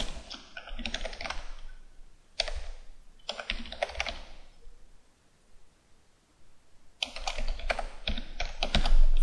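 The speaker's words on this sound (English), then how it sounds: "So I'm just going to type this out here." Bursts of rapid keystrokes on a computer keyboard as code is typed, several clusters of clicking separated by short pauses, close and clear with no talking.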